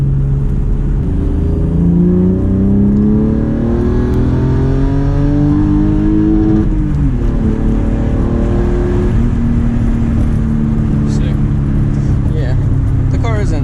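A Megasquirt-tuned BMW E46 of about 180 horsepower is driven hard up a rough road, its engine note climbing steadily through the gears with short dips at each shift, loud and close from inside the car.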